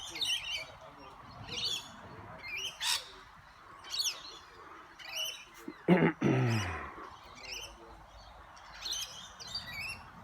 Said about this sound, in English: We get so many birds.